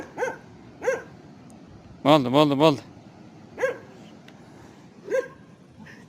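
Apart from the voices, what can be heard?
dogs barking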